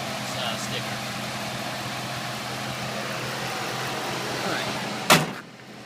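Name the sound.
2005 Dodge Ram Hemi engine idling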